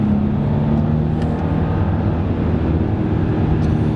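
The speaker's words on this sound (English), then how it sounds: "I'm using the paddle shifters now to shift the gears for me" An Audi Q8 engine drones steadily and loudly from inside the cabin while the driver changes gears with the paddle shifters, a constant low hum with no talking.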